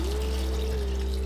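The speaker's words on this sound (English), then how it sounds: "now we can fill the tank up with water" Water pouring steadily into a toy-block fish tank, a continuous close, fairly loud rushing pour with a low hum underneath, no voices.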